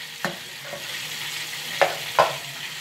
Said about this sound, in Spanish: Esta es la fase de mezclar los ingredientes